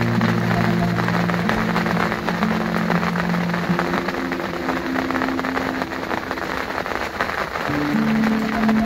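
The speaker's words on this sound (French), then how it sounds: "ça pleut encore" Steady rain falls on a pond during a thunderstorm, an even hiss of drops spread across the whole stretch with a low engine-like hum underneath, no voices.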